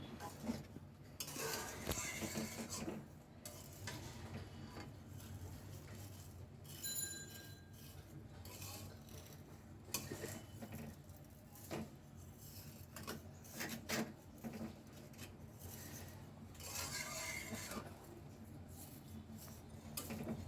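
Semai being stirred and mixed in a pan with powdered milk, quiet scraping and clinking of a utensil against metal in irregular strokes, faint and close, with no voices.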